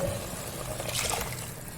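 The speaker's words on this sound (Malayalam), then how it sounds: "ഒരു വലിയ തക്കാളി അരച്ചത് ഇത് ഒഴിക്കുന്നുണ്ട്." Tomato puree pours and trickles into a pan in one short, steady stream, close by.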